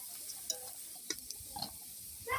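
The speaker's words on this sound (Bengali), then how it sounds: "দেখেন কত সুন্দর লাল লাল করে ভেজে নিচ্ছি" Potatoes and soya chunks frying in oil in a wok, with a faint sizzle under scattered clicks and scrapes of a spatula stirring, a louder scrape at the very end.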